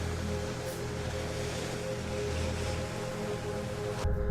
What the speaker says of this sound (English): And there we go. Splash down.